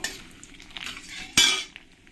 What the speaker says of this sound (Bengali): দুটো তিনটে শুকনো লঙ্কা দিয়ে ভালো করে আমি একটু নেড়ে দেবো